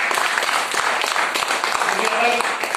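Audience applause at a marketing meeting for MI Lifestyles, brisk steady clapping from a seated crowd running throughout, with a voice speaking over it.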